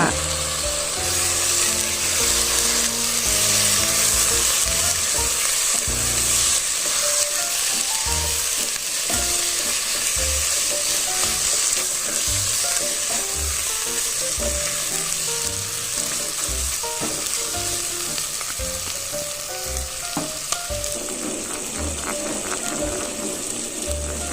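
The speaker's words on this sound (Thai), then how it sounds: "คั่วพริกแกงจนหอมดีแล้วก็เอาชิ้นไก่ลงไปคั่ว" Steady, loud sizzling and crackling of chicken pieces stir-frying in northern Thai curry paste, with scraping stirs and occasional clinks throughout, no voices.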